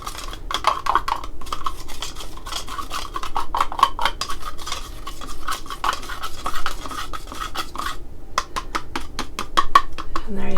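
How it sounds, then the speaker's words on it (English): Gesso, a chalk-based primer with a couple of drops of liquid added, being mixed by hand: steady scraping and light clinking of a tool against a container, continuous and close, with no talk. "Give it a good little mix."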